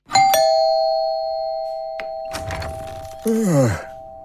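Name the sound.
doorbell ringing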